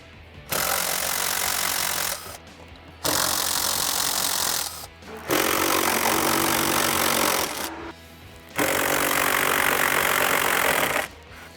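A power tool runs in three long bursts with short pauses between them as the four 8mm bolts come off the heat shield of a 1996-2010 Mustang GT. Each burst is a loud, rattling whir close by.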